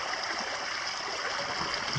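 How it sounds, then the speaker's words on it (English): A small stream runs through a spring woodland in the Boundary Waters wilderness, giving a steady, soft rushing and trickling murmur without pause. "Got a little stream flowing in here."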